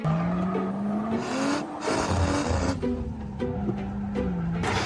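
A drift car sliding on track, its engine revving loudly and rising and falling in pitch while tires squeal in repeated bursts, close and prominent.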